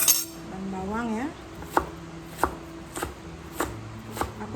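A knife chops spring onion leaves on a cutting board in a home kitchen, with five sharp, evenly spaced taps after a brief tonal sound at the start.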